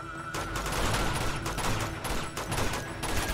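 Dense bursts of rapid gunfire in the video game Uncharted 2, loud and close, with overlapping shots and continuous automatic fire throughout a firefight.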